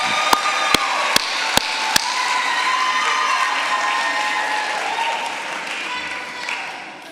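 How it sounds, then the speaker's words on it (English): A crowd at a commencement ceremony applauds in a broad, sustained wash of clapping, with a few sharp clicks near the start and the clapping tapering slightly toward the end. "So you can see by the applause that she received from everybody here"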